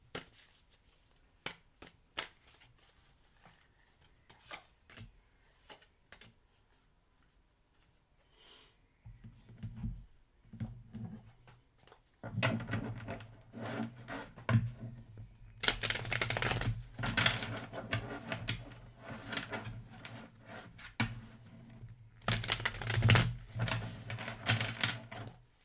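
A deck of cards is shuffled by hand for a tarot reading, with light ticks and flicks at first and then several long, loud riffling bursts, close by.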